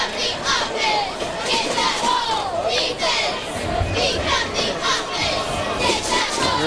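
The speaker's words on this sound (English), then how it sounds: "Hear the Red Raiders over there cheering a little bit." Red Raiders fans cheer and shout in the stands at a high school football game, a continuous distant crowd roar with children's shouts and chatter, and voices talking over it.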